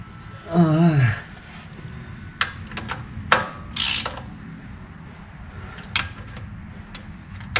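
A ratchet clicks in short, spaced bursts while bolts on a minitruck are tightened down, close by, with a breathy whoosh near the start and quiet shop noise between the clicks.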